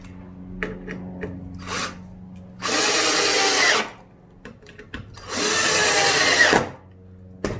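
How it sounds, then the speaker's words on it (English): A power drill whirs in two long bursts, driving screws into pallet wood, with small clicks and knocks between runs. "Take 2 straw point screws."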